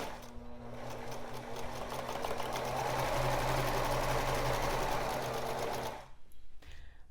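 Sewing machine running a continuous seam along the shoulders and one side of a blouse, steady humming whir for about six seconds before stopping, close and alone.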